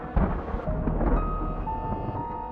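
Rolling thunder from a night storm rumbles low and deep. It swells in the first second and then stays steady and moderately distant, with no talk over it.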